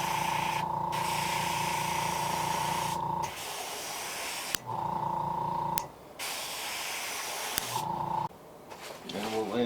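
Bursts of spray paint hiss onto a vintage-style fishing lure, several short blasts starting and stopping with pauses, over a steady mechanical drone and faint background talk.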